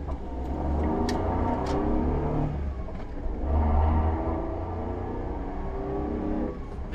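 A car engine pulls away after shifting into gear, rising in a strong low rumble and revving, then easing and climbing again as the car moves through a tsunami-damaged town in Japan, with no talking.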